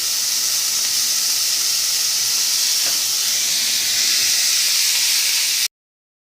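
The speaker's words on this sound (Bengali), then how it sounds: "এই দেখো কড়াতে তেল দিয়ে কালো জিরে ফোড়ন দিয়ে দিচ্ছি এবার দেবো শাকটা" Greens hitting hot oil tempered with nigella seeds in a wok, a loud steady hiss of steam and sizzle that cuts off abruptly near the end, with no talk.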